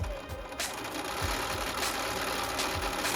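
A sewing machine stitching the seam of a Sherpa fabric bucket hat, running in a steady mechanical whir with short start-and-stop bursts, close and fairly quiet.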